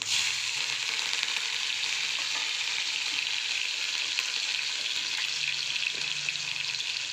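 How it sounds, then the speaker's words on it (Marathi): Cumin seeds and green chillies sizzle in hot oil over a low gas flame for radish bhaji, giving a steady, close, bright hiss that runs unbroken with no voices. "तेल गरम झालं आहे गॅस बारीकच ठेवूया थोडं जिरे पण टाकून घेऊया आणि हिरवी मिरची"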